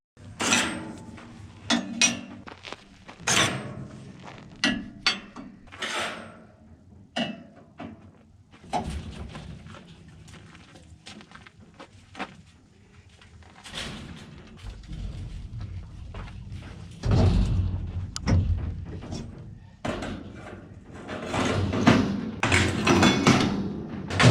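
Homemade trailer ramp gate worked by hand, a run of metallic clanks, thuds and creaks in uneven bursts with quieter stretches between, ending in heavier rattling bangs, close by and with no talk.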